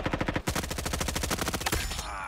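Rapid automatic gunfire in a free-to-play first-person shooter, a fast steady burst of shots lasting about two seconds after a brief opening volley, loud and close with no talk over it.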